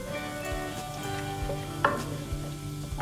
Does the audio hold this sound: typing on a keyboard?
no